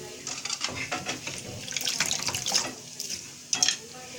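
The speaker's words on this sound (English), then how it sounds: "You have to wash it a lot, like you are washing yourself when you take a bath." Tap water runs and splashes in a sink as fresh coriander is rinsed by hand, a close, uneven hiss with bursts of spatter, while a person talks quietly over it.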